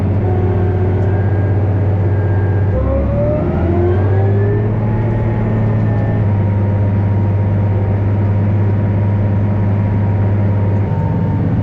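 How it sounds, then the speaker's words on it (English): 520 horsepower Caterpillar tractor with a C18 engine runs steadily, a deep loud diesel drone with a brief shift in load and rising whine partway through, heard close and alone. "This 520 horsepower Caterpillar with a big cast C18 engine."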